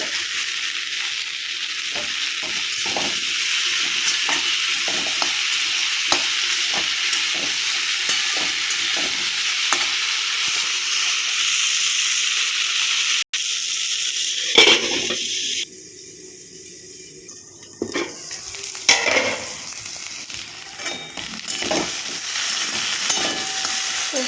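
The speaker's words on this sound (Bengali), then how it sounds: "সবজিটা ভালো করে ভেজে নিলাম" Vegetables frying with grated ginger in a pan, a steady close sizzle with stirring clatter throughout, the sizzle dropping briefly mid-clip before rising again.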